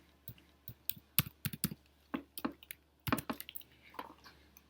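Irregular clacks of a computer keyboard while HTML code is typed, close and fairly quiet, with short pauses between groups of keystrokes.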